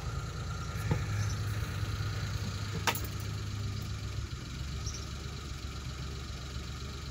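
A steady, low engine idle from an MKI car runs throughout, close and continuous, settling into an even rumble with a brief sharper click partway through.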